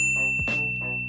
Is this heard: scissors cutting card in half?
no